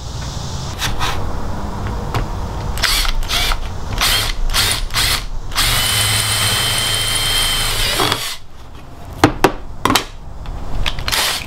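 Holes are drilled in a metal bracket for a Vanagon driver's compartment, amid a loud, steady mechanical drone. Clicks and sharp bursts occur throughout, with a brighter high whine in the middle.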